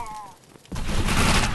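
Dense burst of game gunfire from Defiance, starting abruptly partway through and holding loud and steady to the end, with a faint voice and tone just before it.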